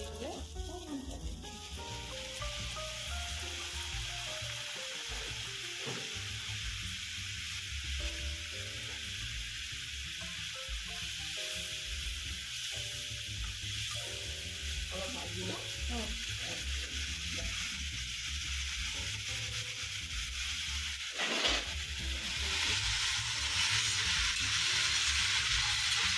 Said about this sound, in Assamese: এইখিনি এতিয়া অকণমান ভাজিব লাগিব